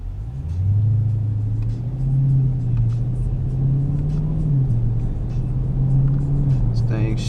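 A 2016 Dodge Challenger R/T Scat Pack accelerates from a stop, its engine rumbling deep and steady with several quick upshifts, heard from inside the cabin, with a brief clatter at the end.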